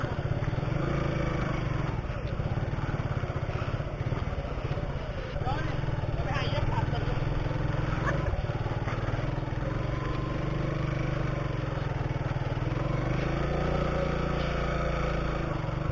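A sports motorcycle climbs a mountain road in first gear with a constant, loud engine drone and wind rush heard from on board, and people talk briefly under it.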